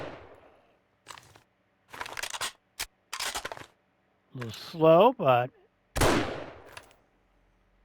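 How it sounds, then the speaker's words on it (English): Rifle gunshots in the survival video game 7 Days To Die, with several sharp, separate cracks spread over a few seconds, one especially loud near the end, and someone speaking briefly in between. "Little gunshot there. Keep them, nobody can say I never used the rifle."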